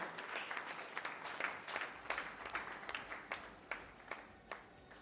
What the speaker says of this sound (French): vous pouvez vous applaudir très, très, très, très, très fort.